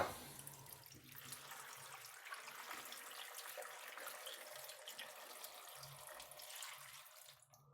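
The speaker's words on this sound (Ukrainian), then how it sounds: "Заливаємо водою." Water pours steadily from a tap into a pot of cut pumpkin and potato pieces for pumpkin soup, a continuous close splashing rush that lasts several seconds before stopping abruptly.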